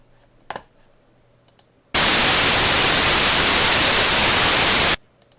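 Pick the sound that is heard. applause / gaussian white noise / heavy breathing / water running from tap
gaussian white noise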